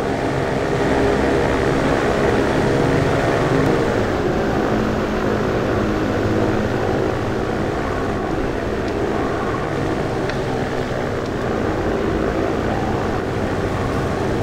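Aircraft engines drone steadily as planes roll for takeoff in a flight sim game, a loud, continuous propeller-like roar that holds level throughout with no talking.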